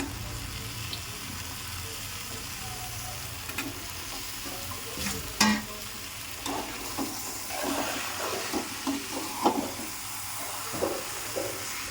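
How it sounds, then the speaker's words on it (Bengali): Mutton with potato and papaya fries on a high flame, a steady sizzle with intermittent stirring and clatter growing busier toward the end. "ফ্লেমটা একটু হাই করে দেবো এবার এর মধ্যে আমি আলু পেঁপেটাও অ্যাড করে দেবো তাহলে একসাথে ভালো করে কষানো হয়ে যাবে"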